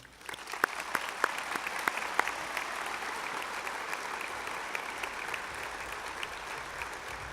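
An audience at a graduation ceremony applauds an award recipient, with sustained, even clapping from a large crowd that starts with a few distinct claps and swells into a steady wash.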